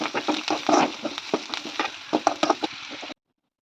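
Spices and salt are sautéed in a pan for an egg fry, heard as quiet, irregular scraping and light clicking from stirring that stops abruptly near the end.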